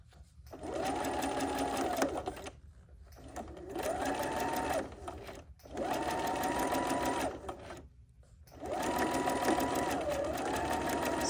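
A home sewing machine stitches a quarter-inch seam in four quick bursts, each steady whirring run separated by brief pauses, close and moderately loud with no talking.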